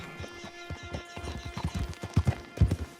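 Horse hooves gallop in a steady clip-clop rhythm in the video game Red Dead Online, moderately loud and close, with a brief whinny-like sound and faint background ambience.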